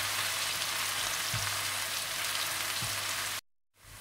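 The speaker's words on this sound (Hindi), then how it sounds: "इसमें आप साबुत लाल मिर्ची डाल दें और साथ ही आप इसमें कटे हुए प्याज डाल दें। और इन्हें हल्का सा भून दें।" Onions and whole red chillies fry in a pan, a steady hiss of sizzling oil with a couple of soft bumps, cut off abruptly near the end.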